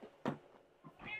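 A house cat meows at a door in a few short, close cries separated by brief pauses.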